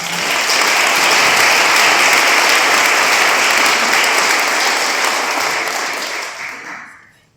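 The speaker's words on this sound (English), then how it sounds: "Please give them a round of applause" Spectators at a mayoral debate give a round of applause, broad, loud clapping from a large crowd that holds steady for several seconds before tapering off toward the end.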